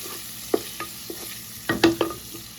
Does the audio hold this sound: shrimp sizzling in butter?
yes